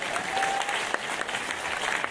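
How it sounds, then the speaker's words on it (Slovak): An audience applauds at a Slovak podcast awards ceremony, a dense, steady wash of clapping from a crowd, fairly loud and continuous throughout, with no speech over it. "my zatleskame"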